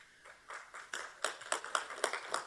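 A meeting audience applauds a student speaker, the claps starting sparse and uneven and then thickening into a steady, moderately loud patter of applause with no talk over it.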